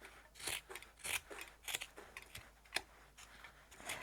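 Scissors trimming fabric on a scrap-patchwork Christmas stocking, a quiet, close series of crisp snips coming in irregular clusters, with no talking.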